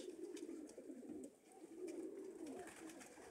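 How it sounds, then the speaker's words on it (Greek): Pigeons coo in low, murmuring calls, several birds overlapping in a continuous soft burble, with faint fluttering and ambient noise around them. "Είναι του Μαστοκυριάκου τα περιστέρια"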